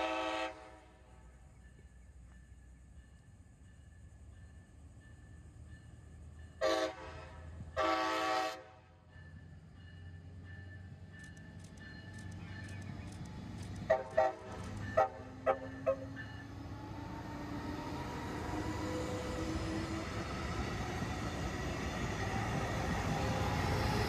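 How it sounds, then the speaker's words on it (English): A Brightline work train, a lone GP40-2 light locomotive running as AFW2 on double track at Malabar Road, sounds two strong horn blasts, then a few short toots as its rumble grows louder and closer. "Work train AFW2, which was just a light locomotive"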